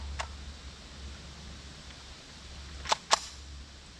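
Old rifle rounds left outdoors on a table for about ten to twelve weeks being fired, heard as faint distant sharp reports: one early weak crack, then two sharper ones close together near the end over a low steady rumble.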